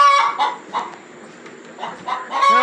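Chickens cluck and murmur in a coop, several short bursts of close-up clucking with quiet gaps between and a slightly louder run of calls at the end, no talking.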